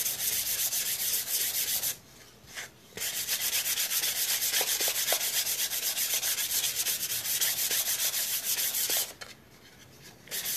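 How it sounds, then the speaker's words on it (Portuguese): Hand sanding of a rustic wooden coat rack with fine 320–400 grit sandpaper after a shellac coat: a steady, close, raspy scrubbing in continuous back-and-forth strokes, pausing briefly twice. "Vamos pegar agora a minha lixa 320 ou 400, tá? Vamos lixar toda a peça."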